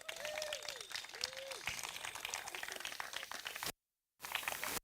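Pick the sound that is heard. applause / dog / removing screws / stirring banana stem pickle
applause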